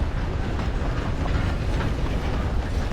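A moving train in Red Dead Redemption 2 Online gives a loud, continuous low rumble with faint rhythmic clatter from the wheels, steady throughout and close up, with no speech.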